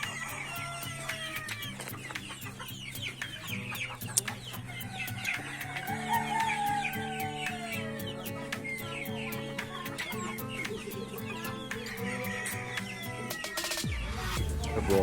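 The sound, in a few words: chickens clucking at a zoo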